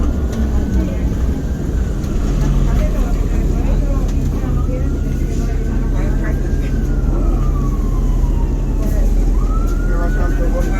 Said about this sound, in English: Fire trucks. Ambulance. Ambulance right here. Fire truck. There they go.